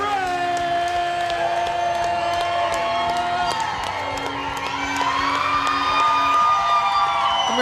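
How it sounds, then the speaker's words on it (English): A large audience roars and cheers continuously at an axe throwing championship, a dense wash of shouting voices and whoops that swells louder toward the end. "I'm going to try to be loud so you can hear me over the roar of the crowd"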